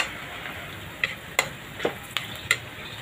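Ground meat and vegetables for broccoli chicharo with sotanghon stir-frying in a pan, a faint low sizzle broken by a handful of sharp spatula clicks and taps against the pan.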